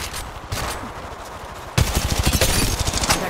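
Automatic weapon fire in the mobile shooter Apex Legends Mobile, sparse shots at first, then a dense, loud burst of rapid rounds crackling continuously through the second half.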